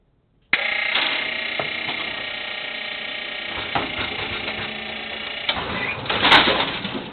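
A bowling pinsetter ejector running in diagnostic mode sets off a continuous loud mechanical clatter and hum, with a few knocks and a sharp squeal toward the end.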